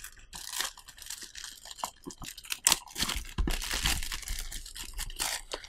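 Plastic film wrap is peeled off a boxed BlitzWolf BW-FWC1 wireless charger, giving irregular close crinkles and crackles in short bursts with pauses between them.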